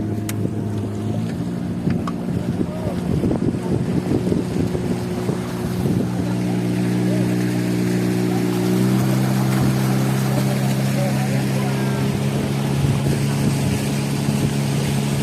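A motorboat engine drones steadily on Danau Asam, a lake near Suoh in Sumatra, heard from aboard with wind buffeting the microphone and a brief shift in engine pitch partway through.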